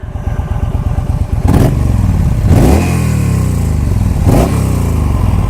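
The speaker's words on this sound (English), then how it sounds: "2-in-2 exhaust, which is moderately nice sounding." A motorcycle with a mix of black-painted and chrome engine and a 2-in-2 exhaust revs loudly up close, with three sharp throttle blips rising over a steady, rumbling idle.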